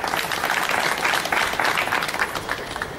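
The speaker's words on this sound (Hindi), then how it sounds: "जोरदार ताली" A crowd at a public meeting in Mumbai claps loudly and steadily, dense hand claps filling three seconds without pause and with no voices over them.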